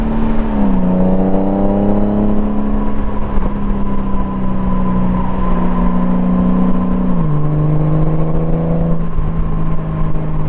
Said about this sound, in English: A Goldwing could sound so good.